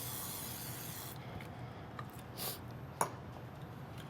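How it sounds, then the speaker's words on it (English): A can of cooking spray is sprayed onto a non-stick pan in a kitchen, one soft, steady hiss lasting about a second, then faint clicks and a brief second puff, all quiet and close. "we're going to spray it again."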